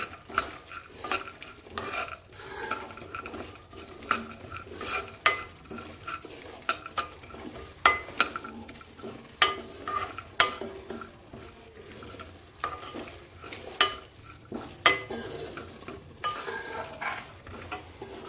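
Cashews and almonds roast in a frying pan, stirred with a utensil that scrapes and clinks against the metal in an irregular rhythm over a faint sizzle.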